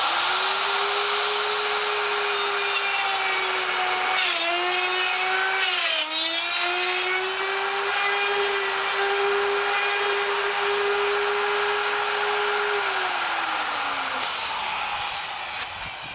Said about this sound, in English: we're going to use the router